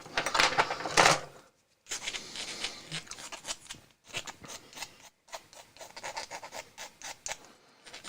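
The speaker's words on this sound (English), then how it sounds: "It's me just trimming stuff off here." Scissors or a hobby blade snipping and scraping parts off Warhammer plastic miniatures, a series of close, light cutting and rubbing sounds with short pauses between them.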